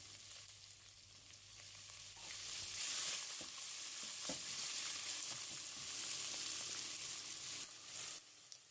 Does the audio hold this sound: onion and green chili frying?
yes